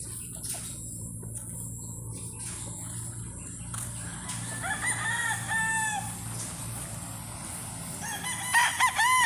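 Gamecocks on a farm crow in drawn-out calls, several overlapping at different distances, with scattered clucks and a steady low hum in the background.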